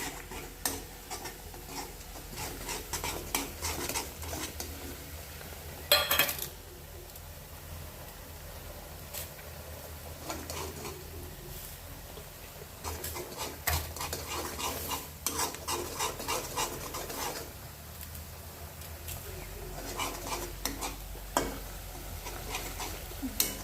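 Onions frying in plenty of oil in a pan for a peanut barbat vegetable dish are stirred steadily, with a continuous sizzle and repeated scraping and clinking of the spoon, loud and close throughout.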